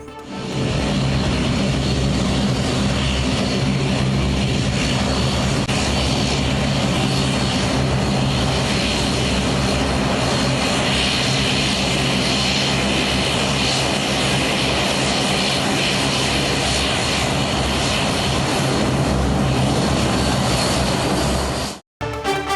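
A SpiceJet passenger plane from Chennai arrives at Thoothukudi airport, its engines roaring loud and steady for over twenty seconds without a break, a broad continuous drone that cuts off abruptly at the end.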